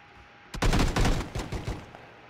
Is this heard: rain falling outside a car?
no